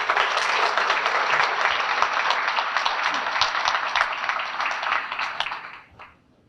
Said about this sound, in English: we owe ourselves and Beth Black and the Chamber of Commerce a round of applause for this commitment